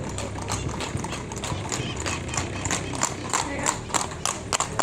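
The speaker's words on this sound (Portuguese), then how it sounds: "cavalo." Horse hooves clip-clop steadily on a road near Mirantão, Minas Gerais, a close, continuous rhythmic clatter with scattered voices of people talking over it.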